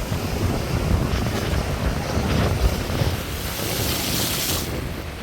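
Strong wind roars across the microphone while rough sea waves off Point Pedro wash and surge continuously nearby, loud and unbroken throughout.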